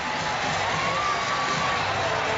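Arena crowd cheering steadily at a National Lacrosse League game at the KeyBank Center in Buffalo, a continuous loud roar with no breaks.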